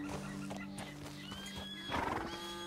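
A horse in Red Dead Redemption 2 whinnies and neighs near a spot where cows are around, with soft clip-clop of hooves, fairly quiet and without talk.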